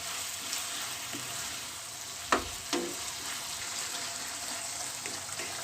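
Minced beef qeema sizzles in a pan as turmeric is stirred in, a steady frying hiss punctuated by two distinct spoon knocks and a few light scrapes, no talking.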